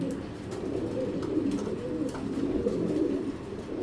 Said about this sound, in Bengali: একটা রেড চেকার পাইট মাদি